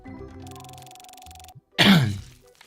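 A single harsh cough bursts out near the microphone after a stretch of low humming tones, then fades.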